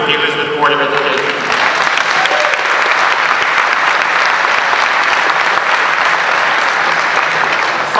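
A crowd applauds loudly at an awards banquet and graduation celebration, with a brief voice at the start, then dense, sustained clapping that holds steady to the end.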